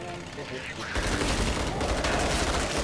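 Automatic gunfire in a frantic zombie-clown circus shooter, a dense, loud stream of rapid shots that kicks in partway through and keeps going to the end, with a voice now and then underneath.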